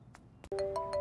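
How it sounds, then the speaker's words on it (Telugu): A mobile phone rings faintly with an incoming call, a short melodic ringtone of clear sustained tones starting halfway through after a soft click, playing on its own at low volume. "ఏంటి నాకు ఫోన్ చేస్తున్నాడు?"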